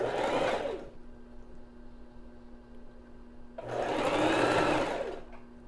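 A sewing machine stitches a lingerie seam in two bursts, one short and one longer, with a quiet pause between them in which a faint steady hum remains.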